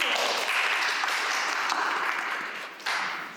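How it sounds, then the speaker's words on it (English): Audience applause for a poetry reader: steady, moderately loud clapping that dips briefly near the end, then swells again. "Everybody give a round of applause for Sam."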